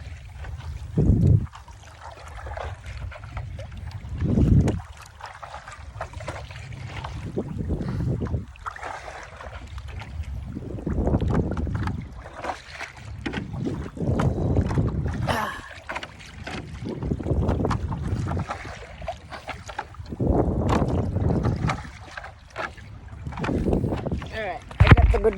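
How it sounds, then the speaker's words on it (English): Strong ocean wind buffets a paddleboarder on open water, a loud, close, gusty roar that swells and fades in repeated surges over lapping water. "It's windy."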